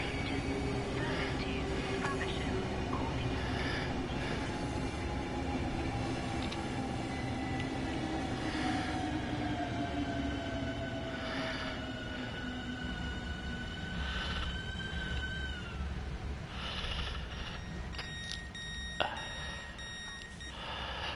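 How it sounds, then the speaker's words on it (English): An electric locomotive with a pantograph runs in Train Sim World 6, with a steady rolling rumble and a rising motor whine over about twenty seconds, plus faint beeps near the end. "a locomotive that has a pantograph on it"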